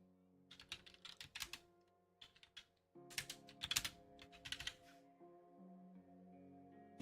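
Rapid clusters of keystrokes on a computer keyboard, close and crisp, arriving in irregular bursts over quiet background music with sustained tones.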